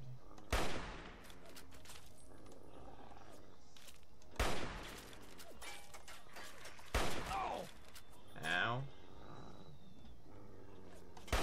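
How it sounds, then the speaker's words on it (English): Enemy gunfire in the Fallout 3 video game: a few sharp, loud shots in separate bursts a few seconds apart, with quieter game sounds between them. "at least one enemy just shooting right away at me"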